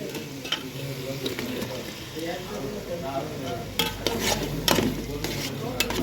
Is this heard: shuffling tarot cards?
no